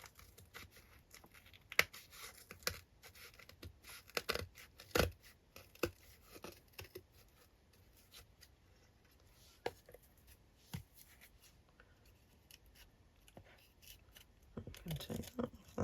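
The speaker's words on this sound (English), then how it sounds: "longer pair of scissors" Scattered quiet snips and crisp cuts of scissors trimming material while replacing an antique book's spine, irregular and close up, with faint rustling between them and a busier flurry near the end.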